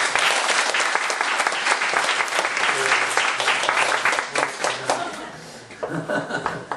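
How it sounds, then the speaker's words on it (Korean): A church congregation at a Sunday evening service applauds its cell leaders, dense loud clapping filling the room and then thinning out near the end, with a few chuckles mixed in. "우리 셀 리더 1년 동안 수고하시라고 우리 박수를 한 번만 넣어드립니다"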